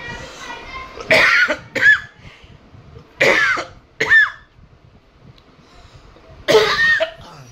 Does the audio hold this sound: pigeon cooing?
no